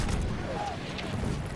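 Explosions and gunfire rumble through a Battlefield 1 multiplayer match, a dense, continuous low roar of blasts with no clear gaps, heard loud and close.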